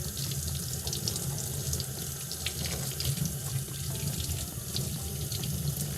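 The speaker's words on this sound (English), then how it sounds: "I'll wash the blade." A steel knife blade is washed with dish soap under a running kitchen faucet. The steady splash of tap water into the sink continues throughout, close and uninterrupted.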